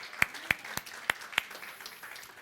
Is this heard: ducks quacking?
no